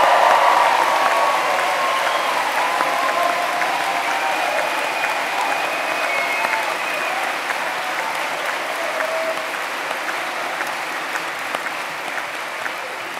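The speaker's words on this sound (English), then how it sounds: "Please join me in thanking them with another huge cheer and round of applause." Cheering and applause from a large audience at Bournemouth University's November 2011 graduation ceremony, a dense, steady roar of clapping and shouts that holds across the whole stretch and tapers only slightly toward the end.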